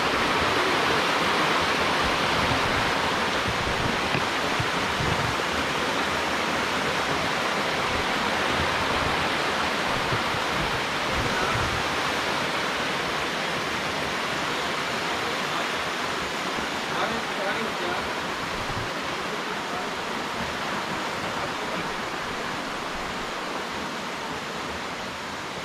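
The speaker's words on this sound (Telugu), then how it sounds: "చూడండి మన వెనక నీళ్ళు కొండపై నుంచి అయితే నీళ్ళు వస్తున్నాయి." The Kapartheeswara Kona waterfall pours down a hillside in a steady, broad rushing roar that stays constant and moderately loud throughout, with no talk over it.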